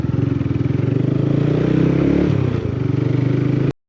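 TVS Apache RTR 180 motorcycle ridden along a quiet road, its engine droning steadily and close, with a brief dip in pitch before the sound cuts off abruptly.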